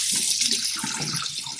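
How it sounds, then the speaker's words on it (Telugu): Water runs steadily from a tap into a sink during rinsing, a close, continuous splashing flow with no voices. "వాటర్ కింద రించుకో."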